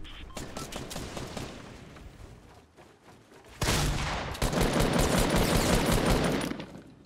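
Rapid automatic gunfire from the Fortnite video game rattles in dense, continuous bursts, easing briefly before a louder, sustained volley of shots.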